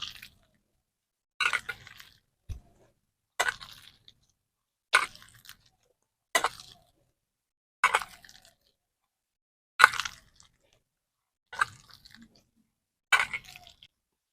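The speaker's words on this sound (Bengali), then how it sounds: "পেঁয়াজ কুচি, পেঁয়াজ ও আলু ভালো করে মাখিয়ে নেব।" Chopped onion and potato are squeezed and mixed by hand. Nine or ten wet squishing squelches come at regular intervals of about a second and a half, close and fairly quiet, with silence between them.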